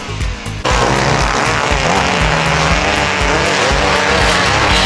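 Several motocross bikes pull away together on a dirt track, engines roaring loud and continuous after a sudden burst of revving, with a dense, steady drone that holds at full volume throughout.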